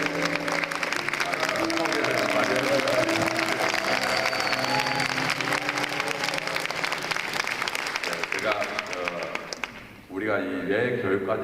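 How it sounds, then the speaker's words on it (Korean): Crowd at a church-hosted citizens' rally in Busan gives loud, sustained applause to welcome an elder, a dense roar of clapping with tonal sounds underneath that dips briefly near the end before resuming. "귀하신 우리 장로님이 나오실 때 큰 박수로 맞이합니다."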